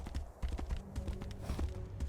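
Horse hooves clip-clop at a steady riding pace in the Tainted Grail: Fall of Avalon video game, close and clear, with light ambient game sounds behind.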